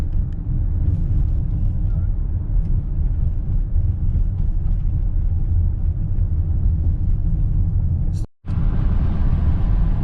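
A Chrysler Pacifica's engine runs steadily under acceleration, a continuous low rumble heard from inside the vehicle, broken by one brief dropout near the end.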